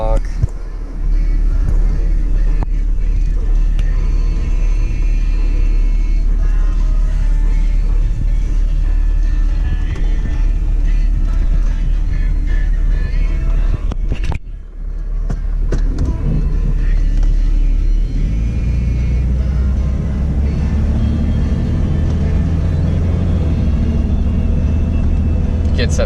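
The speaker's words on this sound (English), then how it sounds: "gets up to speed no problem. Very nice and quiet, makes an awesome daily driver." A 2001 Jeep Cherokee XJ Sport engine drones steadily while driving, a continuous low rumble from inside the cabin that briefly dips and then grows deeper and heavier as it gets up to speed, with someone talking over it.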